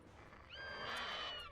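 Horse neigh in the Witcher 3 video game, a single rising, harmonic whinny that swells in the middle of the moment and holds loud and close before tailing off, with no talking over it.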